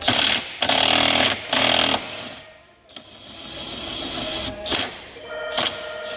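A Mac brushless impact wrench with an 18mm socket loosens engine cradle bolts on a 2009 VW GTI, firing three loud, close hammering bursts at the start, followed by quieter rattles and two brief sharp hits.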